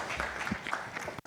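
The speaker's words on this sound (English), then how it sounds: "With a huge round of applause, we welcome Ms. Trupti Bais on the dais." Audience applause welcoming a speaker to the dais at a talk on learning strategies, steady moderately faint clapping throughout with a brief break near the end.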